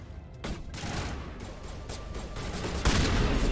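Shotgun blasts and gunfire from the Mass Effect 1 video game, dense and continuous with a loud burst near the end.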